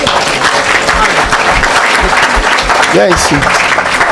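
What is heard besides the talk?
church congregation applauding to acclaim the Lord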